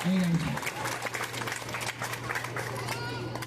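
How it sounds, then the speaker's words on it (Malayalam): Applause from an audience at a high school anti-drug street play event, a steady patter of clapping under a steady hum, with a voice briefly heard at the start. "നിങ്ങളെല്ലാവരും നല്ലൊരു കയ്യടി കൊടുത്ത്"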